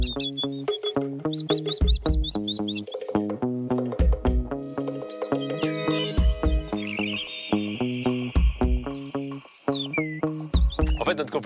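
A person imitates the song of a common blackbird, producing quick, varied whistled phrases with sharp chirps and sliding notes, loud and close, separated by short pauses.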